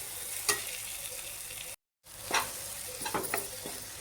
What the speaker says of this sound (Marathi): तेलात व्यवस्थित परतून घेतलेलं आहे मी आता आपण त्याच्यामध्ये शिंपल्या घालूया